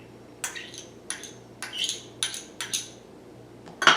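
Chopped ginger and green onion are stirred into a meatball mixture for Chinese pearl meatballs, giving a series of soft, irregular clinks and squishy scrapes of utensil against bowl, close and fairly quiet.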